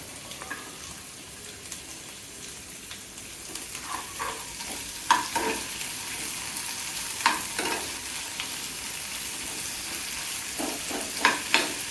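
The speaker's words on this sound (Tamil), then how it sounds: "தக்காளி, பூண்டு, இஞ்சி எல்லாத்தையும் போட்டுக்கணும்." Tomato, garlic and ginger fry in a pan for a chutney, with a low background sizzle broken by repeated scraping stir strokes that grow more frequent and louder toward the end.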